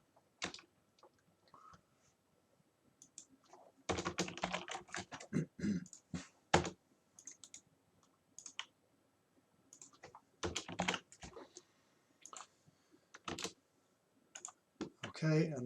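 Computer keyboard typing and mouse clicks during puppet animation work, heard as quiet, scattered taps with a dense flurry of keystrokes in the middle, close and alone without talk.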